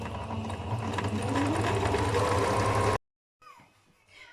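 A sewing machine stitches fabric for a nomadic changing mat, running loud and steady for about three seconds before stopping abruptly, followed by silence and faint handling noises.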